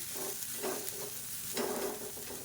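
Steamed puttu is tossed into sautéed onions in a hot pan, giving a steady close sizzle with scraping stirring strokes about every second.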